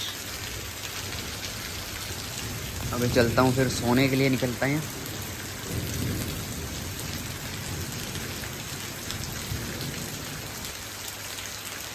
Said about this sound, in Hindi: बारिश तो भाई बहुत ज़्यादा हो रही है और बहुत ही ख़तरनाक हो रही है